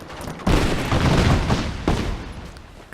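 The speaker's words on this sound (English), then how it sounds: "Cluster bombs." Cluster bombs in Rise of the Tomb Raider go off in two loud, close blasts, the first long and rumbling, the second a quicker crack a little over a second later.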